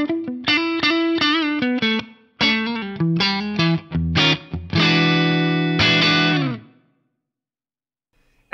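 Electric guitar from a Fender Stratocaster played through an Axe-Fx III, a loud run of plucked single notes followed by ringing strummed chords that sustain and then stop abruptly, close and alone with no voices.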